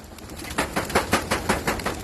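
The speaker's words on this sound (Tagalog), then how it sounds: "Ayan mga ibon." Released racing pigeons take off together in a rapid series of wing-flapping bursts, close and fairly loud, with a steady rhythm of whirring flaps over a few seconds.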